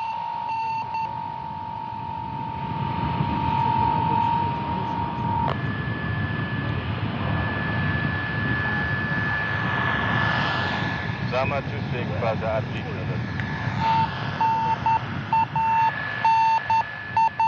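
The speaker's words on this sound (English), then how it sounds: "the navigation beacon, that is a familiar sound, indicating the approaching position of the Soyuz vehicle" A Soyuz navigation beacon's steady electronic beeping tones repeat over a continuous aircraft engine drone circling the landing zone, with bursts of talk in the middle.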